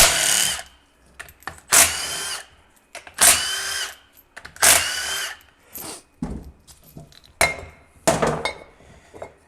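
An electric impact tool hammers at the tail housing bolts of a Cadillac CTS-V 6L90 transmission in a series of short, loud rattling bursts of about a second each, separated by brief pauses, with a metallic clink near the end.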